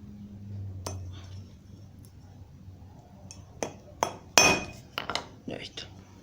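Bicycle chain being cut with a chain tool, with a low grinding turn early on, then sharp metallic clicks and clinks, one louder snap near the end, close up, and someone speaking at times.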